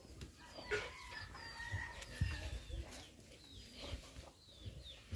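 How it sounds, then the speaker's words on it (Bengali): Chickens on a rural village homestead clucking and calling in short irregular bursts, fairly close but soft, with a brief flutter of wings and quiet outdoor background between the calls. "মুরগি"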